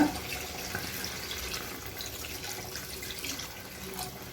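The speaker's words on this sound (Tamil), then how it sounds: "கறி வேகிறதுக்கு வேணுங்கிற அளவு தண்ணி ஊற்றிக்கலாங்க." Water pours steadily into a cooking pot for chicken kuruma, a continuous soft splashing and gurgling stream heard fairly faint and alone.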